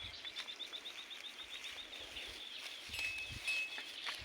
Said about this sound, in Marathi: पक्ष्यांचा चिवचिवाट आहे मस्तपैकी इकडे वावराकर